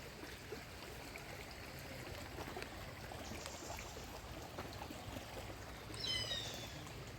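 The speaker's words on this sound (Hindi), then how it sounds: "ये देखिए छोटा सा पानी की धारा बहती हुई, इसकी आवाज़ भी आपको आ रही होगी।" A small stream of water flows in a forest near the Garud Chatti waterfall in Rishikesh, a soft, continuous trickling rush heard alone at low volume, with a faint chirp toward the end.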